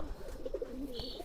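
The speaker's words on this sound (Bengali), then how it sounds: "এটা হচ্ছে বুড়া জাতের মাদি কবুতর" A female Bura-breed pigeon coos softly nearby, a low throaty warble repeated in a short burst, with faint background noise.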